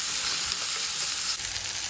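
Chopped tomato and potato sizzle and fry steadily in a pan over a medium flame for sambar, a loud, close, continuous crackle with no talking.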